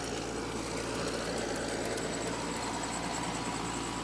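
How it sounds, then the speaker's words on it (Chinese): A wheat seeding and fertilizing machine running during a field trial gives a steady mechanical engine drone with rhythmic clattering, close and continuous, with no talk. "机器试验的声音也吸引来了不少围观的村民"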